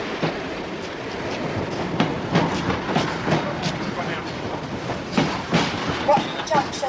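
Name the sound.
train arriving at a station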